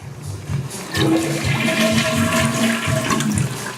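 A household toilet, just repaired with new washers to stop a leak, flushes loudly with a rushing gurgle of water that fills the whole few seconds, close by and with no talking.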